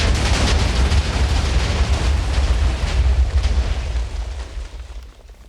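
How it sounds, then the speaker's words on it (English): A massive chain of TNT minecart explosions in Minecraft roars as one loud, dense, booming rumble that holds steady, then slowly fades and thins toward the end, with no voices. "Well, that was a big explosion, but I think we need a few more explosions to finish this off."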